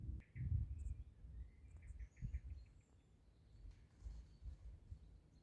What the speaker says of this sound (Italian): si sentono anche cantare gli uccelli